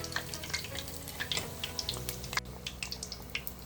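Cauliflower florets coated in masala fry in a pan, giving a steady soft sizzle with scattered crackles and pops close by, with no talk.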